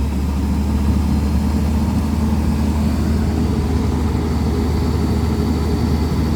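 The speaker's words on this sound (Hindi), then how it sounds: "मैं मशीन का आरपीएम बढ़ाता हूँ इंजन के" A car engine held at raised RPM during a coolant temperature sensor check, a steady continuous low drone with no speech.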